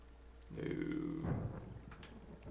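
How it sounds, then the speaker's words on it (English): Distant thunder rumbles low and muffled through a wilderness setting in the video game Firewatch, a single swelling roll lasting a couple of seconds over faint ambient background. "Hey, I heard some thunder."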